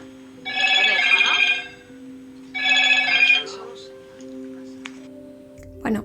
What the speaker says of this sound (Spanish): ¿Qué pasó? ¿Teléfono?